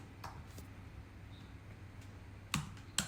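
A couple of quiet keystrokes on a computer keyboard, sparse clicks near the end over a faint room hum with no talking.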